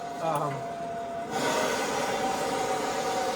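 A steady, loud broadband roar of a gas torch heating the edge of a steel crossmember kicks in after a quiet moment and holds evenly to the end.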